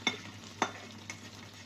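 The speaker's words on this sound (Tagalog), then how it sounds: "Ngayon, ilagay na po natin itong ating beef." Beef dropped into a pan and stir-fried with peas and mushrooms, giving three brief stirring scrapes over a faint background sizzle, close and quiet, with no talking.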